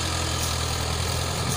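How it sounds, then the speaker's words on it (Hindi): An old International tractor, running for some fifty years, pulls a plough with a steady, continuous low engine drone and rumble, close and even throughout with no talking. "ये हमारा पुश्तैनी ट्रैक्टर जो पलटी पिलाऊ को खींचता हुआ"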